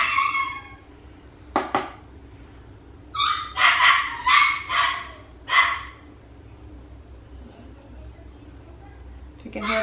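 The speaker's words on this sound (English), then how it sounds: "If you can hear that barking, that is a puppy we are watching for" A puppy barks in short high yips, a single bark followed by a quick burst of several more, then one last yip after a pause.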